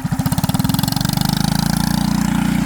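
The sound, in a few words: engine of a pallet-built trike revving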